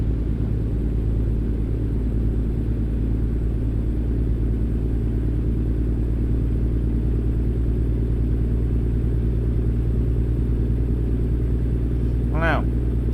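Freightliner Cascadia truck engine in American Truck Simulator, a loud, steady low drone at around 1000 RPM throughout, with a brief rising tonal sweep near the end.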